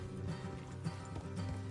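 Horses clip-clopping along at a trot in the Red Dead Redemption 2 video game, steady hoofbeats close by over a low continuous backdrop, with no talking.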